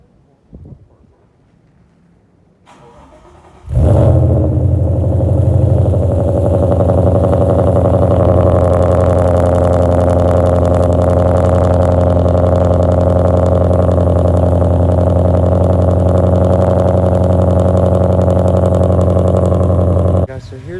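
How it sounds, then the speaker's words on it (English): A car fitted with new aggressive-looking body parts cranks and fires up after a few quiet seconds, then settles into a loud, steady, rumbling idle that runs close-up for over fifteen seconds. "let's go ahead, start the car up real quick"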